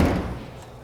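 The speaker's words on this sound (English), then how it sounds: "when you close the door" A car door swings shut with a single solid thud at the very start, then the sound fades into a short muffled decay. The slam is close and fairly loud.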